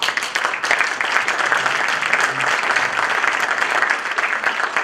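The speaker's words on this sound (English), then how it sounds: "give to our excellent speakers a warm round of applause" Steady, dense applause from an audience at a conference, honouring the speakers on an individual-and-state panel, filling the room evenly at full volume without a break.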